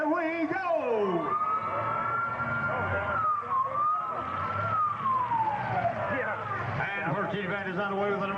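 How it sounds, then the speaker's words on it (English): A loud siren at a demolition derby wails in rising and falling sweeps for several seconds, signalling the start of the event, with a voice audible near the beginning. "at the sound of the siren, here we go!"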